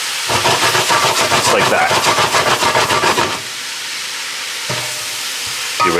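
Moisture being stirred out of a hot cooking pan gives a loud, dense sizzling hiss with rhythmic stirring pulses for about three seconds. It then drops to a softer, steady hiss, and a voice speaks briefly over it.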